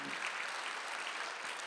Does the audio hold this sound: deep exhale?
no